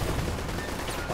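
A grenade blast in the Uncharted video game: a dense, loud, continuous roar of low rumble and crackle filling the whole moment, with no pauses and no talk.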